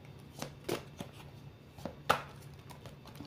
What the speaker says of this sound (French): Quand je le mélange, je prends mon temps.